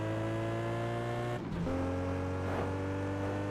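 A supercar drives in the video game Test Drive Unlimited 2, its engine holding a steady harmonic drone, briefly dropping during a gear shift, then settling into a lower steady hum, close and continuous with no talk.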